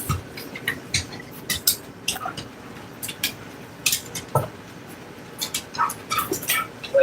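A dog moves around nearby indoors, with faint whimpers and scattered light clicks and clatters in an otherwise quiet room, no talking.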